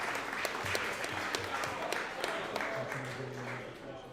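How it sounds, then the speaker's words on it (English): An audience claps for a high school football team, a bright crowd applause with sharp individual claps standing out, moderately distant and steady over about four seconds, with a faint voice murmuring underneath. "let's give a round of applause to a playoff team."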